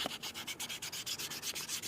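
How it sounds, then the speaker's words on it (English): Edge of a leather wrist cuff being sanded, a quiet rhythmic rasping of about a dozen even back-and-forth strokes, close up with no talk. "you're rotating it around and sanding it so that you don't have lots of little straight cuts"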